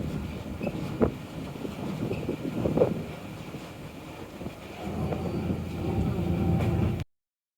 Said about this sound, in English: The engines that we have today are 2 Caterpillars. They're C93s.